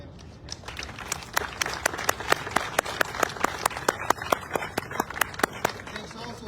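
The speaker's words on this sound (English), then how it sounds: "So please join me in a round of applause and thanking them for today." An audience claps at a military retirement ceremony, with sharp, dense, irregular hand claps continuing steadily throughout.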